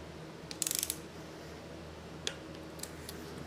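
A ratchet torquing bolts down to 40 foot-pounds during an install: a faint quick run of clicks near the start, then a few isolated ticks over a low steady background hum.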